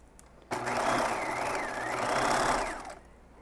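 A sewing machine runs a zigzag stitch through stretch velvet at a 5/8-inch seam, a steady, close whirring burst of about two and a half seconds that starts abruptly and stops cleanly.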